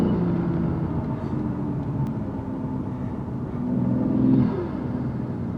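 A BMW M2 fitted with a loud aftermarket intake gives a steady, deep engine rumble that swells briefly toward the end.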